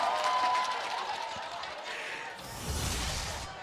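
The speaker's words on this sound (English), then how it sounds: "Crowd goes wild" Arena crowd at an MPL Season 12 grand final esports match roars in a sustained, dense wash of cheering and applause that swells again near the end, with a commentator's voice shouting over it.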